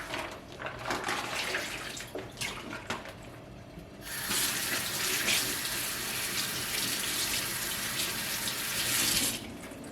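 Raw beef is rinsed under a running kitchen tap, with water splashing and handling noises at first, then a steady loud, continuous gush of water that stops near the end.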